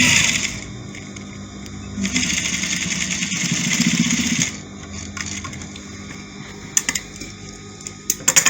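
A sewing machine running a lock stitch on an African fabric jacket, with a steady mechanical whir in two bursts, then the motor stops and a few sharp clicks follow.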